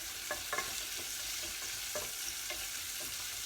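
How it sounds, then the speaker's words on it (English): Onion frying in a pan for pepper and tomato soup sizzles steadily while a spoon scrapes and stirs it in several short, spaced strokes. "let's give it a quick stir."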